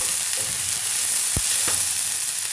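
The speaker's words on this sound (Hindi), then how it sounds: "इसके गरम होते ही इसमें प्याज डाल देंगे और हरी मिर्च भी साथ ही साथ डाल देंगे।" Onions and green chillies frying in hot refined oil, giving a steady bright hiss with a couple of faint utensil taps, close and continuous with no speech.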